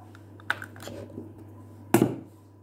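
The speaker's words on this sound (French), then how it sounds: "Donc mes œufs, je les casse." Eggs cracked one after another for choux pastry cream: two sharp taps about a second and a half apart, the second louder, over a steady low kitchen hum and small handling clatter.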